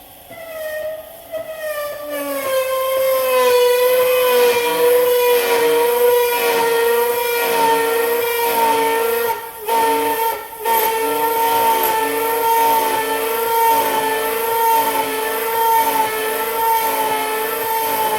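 An automatic topical cream mixer runs with a steady high-pitched tonal whine, rising at the start as the shaft seeks position and holding level, briefly dipping partway through.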